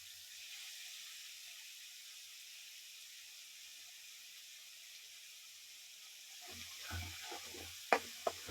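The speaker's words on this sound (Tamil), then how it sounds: "பச்சை வாசனை போகிற வரையும் நல்லா வதக்கிக்கலாம்." Ginger garlic paste sautéing in hot oil for a chicken curry makes a soft, steady sizzle and hiss. Near the end come a few louder stirring knocks and scrapes of a utensil in the pan.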